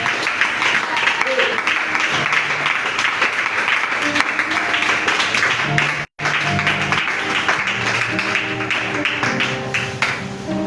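A church congregation claps in worship, a dense, steady round of applause with brief shouts and voices mixed in, cut by a momentary dropout midway.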